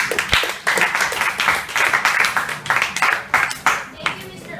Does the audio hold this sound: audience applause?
yes